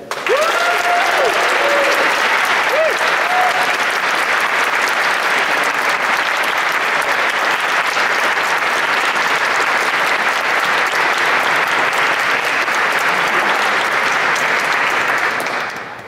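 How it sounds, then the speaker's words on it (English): Sustained applause from an audience at a Philosophical Society meeting, steady and dense for about fifteen seconds before tapering at the end, with a few faint voices and whistles early on. "will you please give a round of applause"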